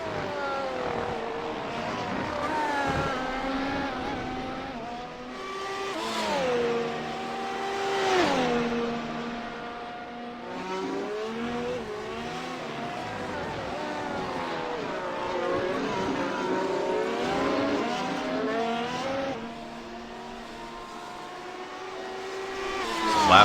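Race cars on track at the Red Bull Ring in an F1 racing video game, Austrian Grand Prix, late in a 35-lap race; several engines whine and shift pitch as they pass, steady and moderately loud, with no talk.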